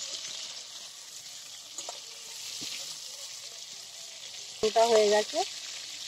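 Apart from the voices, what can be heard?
prawns frying in a pan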